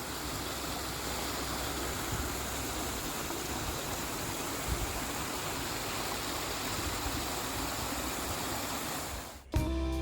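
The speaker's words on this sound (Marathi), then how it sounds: "हा ओढा आहे याला भरपूर पाणी आलंय" A rain-swollen stream near a weekend home outside Lonavala rushes in a steady, full roar that runs unbroken and close by, then cuts off abruptly near the end.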